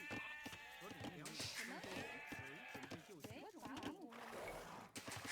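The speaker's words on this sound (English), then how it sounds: "Bring in a new sheep" Sheep bleat repeatedly in the Age of Empires II game, their wavering cries rising over busy game sounds while someone talks throughout.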